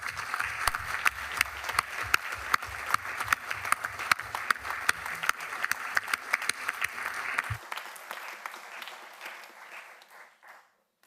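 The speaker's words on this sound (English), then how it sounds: "Would you all like to join me in a round of applause for the staff and students of City College Plymouth" A round of applause fills a city council chamber, many hands clapping in a sustained, moderately loud wash that tapers off and stops near the end.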